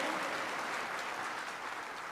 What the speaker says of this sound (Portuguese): Aplauda aí, pelo amor de Deus.